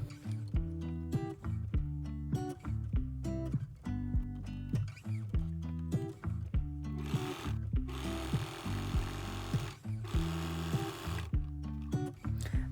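An electric sewing machine stitches the bottom piece onto a canvas market bag, running in short repeated bursts with brief pauses, a steady close mechanical whir.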